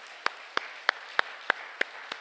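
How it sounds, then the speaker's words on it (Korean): A church congregation claps in unison, seven sharp, evenly spaced claps in a steady rhythm about a third of a second apart, set against a quiet room. "우리 한번 하나님께 영광의 박수를 올려야겠어요"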